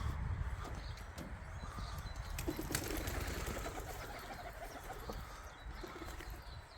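Pigeons in a rooftop loft flutter and land nearby, with soft wingbeats and scuffling over a steady outdoor background.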